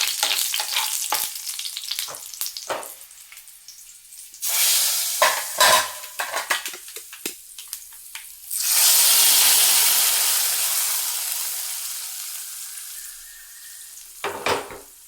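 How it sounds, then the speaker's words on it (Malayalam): Fried mustard seed tempering poured into a dish of dried ingredients, giving clicks and stirring, then a sudden loud sizzle and hiss that slowly fades, followed by a few clatters at the end. "പിന്നെ കടുക് വറുത്തത് താളിച്ച് ഒഴിക്കാം."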